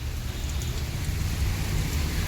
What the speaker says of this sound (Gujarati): વરસાદ રહ્યો છે ચાલુ